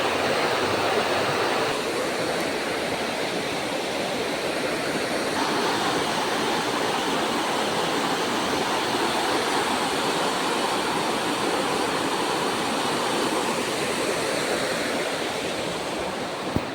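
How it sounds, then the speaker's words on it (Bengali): Water pours through a dam in a loud, constant roaring rush, a dense unbroken wash of turbulent flow that never lets up, with no voices over it. "এদিক দিয়ে জল যাইতেছে"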